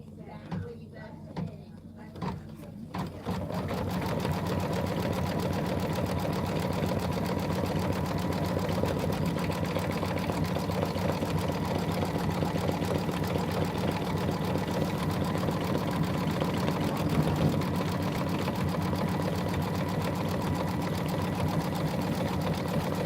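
An embroidery machine sews a cover stitch over an applique quilt block, starting after a brief spoken lead-in and then running in a steady, even, close mechanical whir that continues uninterrupted to the end.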